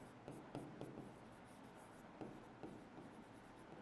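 Faint scratchy strokes of writing on a board during a circuits lecture, soft rhythmic scrapes in short bursts over low room hum.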